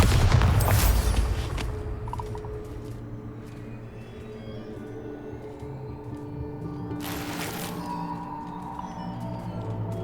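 Bombarda blasting spell in Hogwarts Legacy, a loud close explosive burst at the start and another sharp blast later, with rumbling game ambience and mechanical creaks in between.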